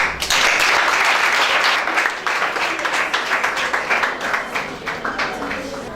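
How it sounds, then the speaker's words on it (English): Audience applause at a school debate programme, a dense, loud burst of clapping that holds steady for several seconds and then thins slightly toward the end, with no voices over it. "A round of applause for her."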